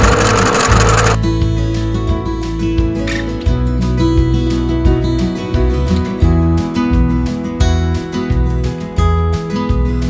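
A sewing machine stitches half-square triangle quilt pieces, loud and close, its needle running in rapid stuttering bursts with short pauses and restarts, a steady mechanical chatter with no voices.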